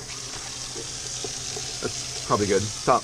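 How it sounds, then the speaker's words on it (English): Water is poured into a container while making a cheap DIY PVC-and-cement kayak anchor, a close trickling splash that swells briefly near the end as people talk over it. "Fill some water in there"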